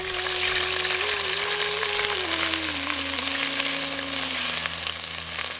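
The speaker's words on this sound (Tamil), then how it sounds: "சட்டி நல்லா சூடானதும் கொஞ்சம் எண்ணெயை ஊத்தி அதுல அரைச்சு வச்சிருந்த இஞ்சி பூண்டை சேர்த்துக்கலாம்." Ginger garlic paste sizzles steadily in hot oil in a pan while fish curry is being made, a dense, continuous crackle close by with a faint tonal hum running underneath.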